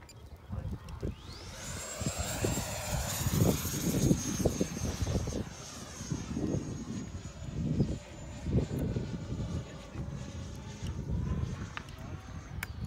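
An E-flite F-16 electric model jet makes a low pass, its high ducted-fan whine sweeping in, holding a steady pitch and fading, over wind buffeting and outdoor background noise.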